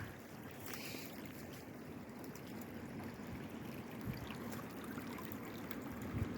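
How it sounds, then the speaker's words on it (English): A small forest stream in Talladega National Forest trickles with a continuous, faint, even wash of running water and no talk over it. "looks like a decent little water source here"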